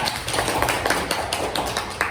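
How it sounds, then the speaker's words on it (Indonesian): A classroom of students applauding a classmate: a short burst of brisk, fairly close clapping from a small group. "beri tepuk tangan dengan Syifa"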